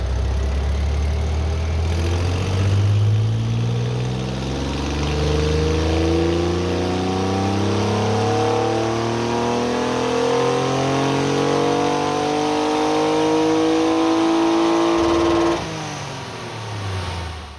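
A Reliant Scimitar with a swapped-in Omega V6 makes a petrol power run on a rolling road, its engine climbing steadily through the revs in one long, loud pull before backing off.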